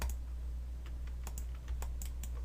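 Keys on a computer keyboard are pressed, including the X key, while working in Autodesk Maya 2020. A few sparse, faint clicks sit over a low steady hum.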